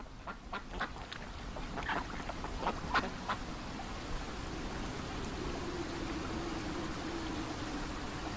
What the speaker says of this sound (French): les canards mandarins mâles commencent à courtiser les femelles